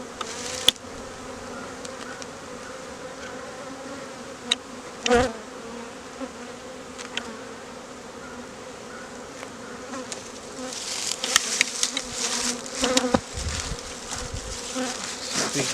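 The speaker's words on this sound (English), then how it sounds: "there is so many bees in here" Bees crowd a beehive box in spring, producing a continuous close droning buzz with a few louder passes nearby, and handling noise toward the end, with no talking.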